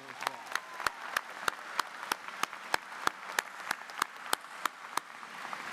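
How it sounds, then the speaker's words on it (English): Applause at a university convocation ceremony: a faint bed of crowd clapping punctuated by a loud, regular single clap close to the microphone, roughly three per second. "How about a round of applause for her"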